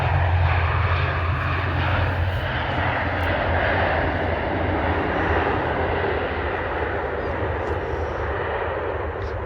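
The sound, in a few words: Aer Lingus ATR turboprop airplane landing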